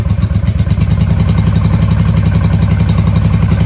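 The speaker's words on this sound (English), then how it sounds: "Now, when we rev it, we should get 13 to 14 if this thing's charging." A 1995 Honda Shadow VLX VT600CD motorcycle engine runs loud and close, a steady pulsing V-twin throb that rises slightly as it is revved, with mechanical clatter over the rumble.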